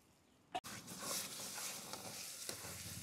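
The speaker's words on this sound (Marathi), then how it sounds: "आपण आता त्याच्यामध्ये भिजत टाकलेले शेंगदाणे घालून घेऊ। परतून घेऊ व्यवस्थित।" Soaked peanuts and coconut tossed into hot oil for a Maharashtrian aloo fatfata, a sharp clatter as they hit the pan, then a steady crackling sizzle with faint stirring scrapes.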